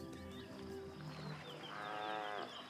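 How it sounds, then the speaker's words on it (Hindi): A small herd of buffalo standing knee-deep in water lets out drawn-out, low lowing calls, one long moan rising toward the end, heard faintly over soft ambient water and background sound. "पानी से रंभाने की हल्की आवाजें आ रही हैं।"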